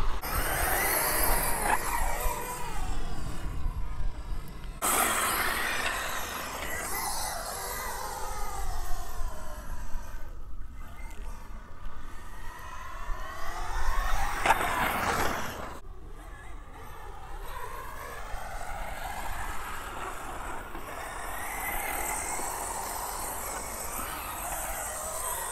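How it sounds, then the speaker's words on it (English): An Arrma Mojave EXB 6S RC car climbs a hill, its electric motor whining in several rising and falling surges that carry over a steady outdoor background. "You see the EXB Mojave 6S going easy on it on the hill climb."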